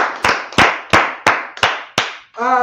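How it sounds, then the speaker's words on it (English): Six slow, separate loud claps, evenly spaced about a third of a second apart with echoing decay after each, followed by a short sustained tone at the end; sounds more like a few hands than a full audience. "Clap it up."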